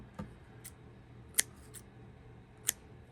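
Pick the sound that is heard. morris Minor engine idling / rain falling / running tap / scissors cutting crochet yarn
scissors cutting crochet yarn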